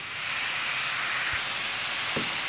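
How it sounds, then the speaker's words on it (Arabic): Onion frying gently in a pan over medium heat with a little salt, a steady soft sizzle and hiss throughout, with a couple of faint low knocks. "البصله كتقلى مع هاد بخفيفه"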